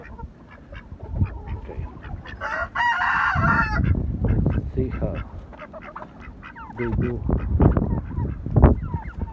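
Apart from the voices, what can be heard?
ducks and fowl calling in extreme winter cold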